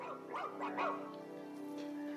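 Dog barking indoors near a workbench, a few short, soft yips and barks close by over a faint steady hum.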